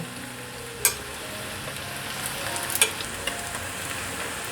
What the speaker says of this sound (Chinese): 先炸一半，给它定型，再来翻动。